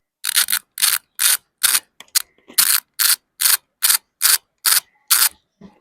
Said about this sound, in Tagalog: Medyo tunog mayaman yung ratchet.